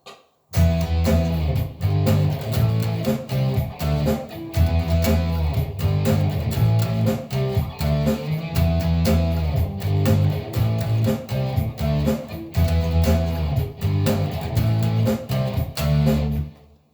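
A loud, distorted electric guitar plays a power-chord riff, repeating a chugging pattern with short breaks between phrases.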